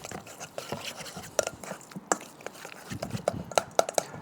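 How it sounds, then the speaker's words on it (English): Lamb steaks are mixed by hand with mint, herbs and olive oil in a bowl, giving irregular soft wet slaps and clinks at close range. "all we're going to do is just mix this little lot up together"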